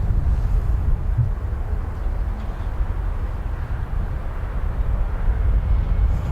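An Emirates airliner at Dublin Airport gives off a steady, loud low-pitched roar that holds evenly throughout, with no voices.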